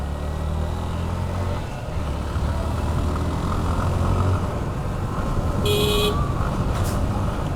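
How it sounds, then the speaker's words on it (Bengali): A vehicle horn gives a quick double toot on a village road near a bazaar over a steady engine rumble and road noise, the honk short and fairly close. "আমি ওই ব্রিজ থেকে হর্ন দিয়ে আইতেছি"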